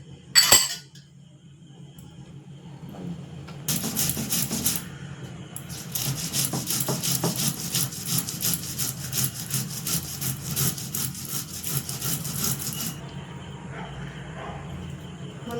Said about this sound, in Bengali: বন্ধুরা আমার মশলা বাটা কমপ্লিট হয়ে গেল। দেখো মশলাটা বেটে নিলাম